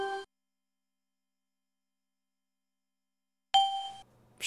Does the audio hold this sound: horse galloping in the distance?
no